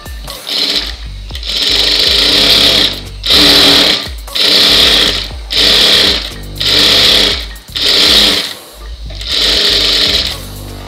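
A sewing machine stitches along the folded edge of a blouse, running loud and close in about eight rapid whirring bursts separated by short pauses.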